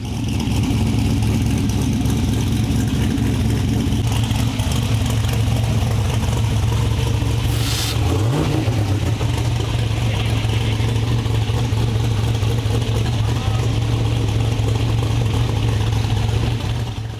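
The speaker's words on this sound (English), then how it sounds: "Let's get the car warmed up first." A car engine runs steadily at idle while warming up before a nitrous-versus-Galaxy-Gas test, a loud continuous rumble with a brief blip in revs about midway through.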